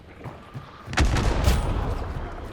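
A deep booming grenade explosion in the game Hunt: Showdown bursts about a second in, followed by rumbling, crackling debris that lingers to the end.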